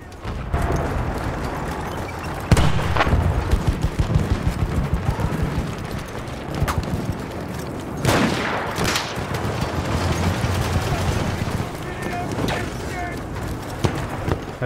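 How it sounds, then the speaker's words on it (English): Distant booms and dense bursts of gunfire fill a Battlefield 1 online Rush match on Xbox One, with heavy artillery impacts thudding at intervals amid continuous battle noise and a player talking over it. "Enemy coordinates have been sent to our artillery."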